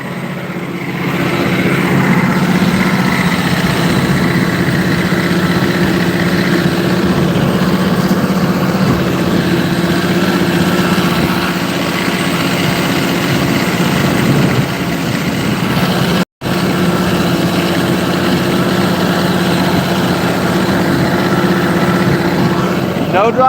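A 380 HP CAT 85D tractor engine runs steadily during fall tillage, a loud continuous low drone heard from inside the cab, unbroken except for one momentary dropout.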